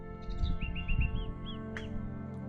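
Birds sing in a mangrove forest at early morning, with a clear series of short, rising chirps and whistled notes up close, plus a sharp call near the end, over a quiet low background hum.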